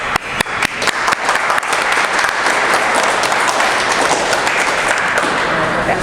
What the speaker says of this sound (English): And clap yourselves for that,